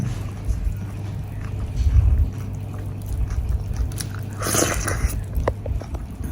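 Someone eats a plate of fried puffed rice (muri) mixed with mango, producing close crunching bites and chewing over a steady low hum, with a brighter crunchy burst near the end.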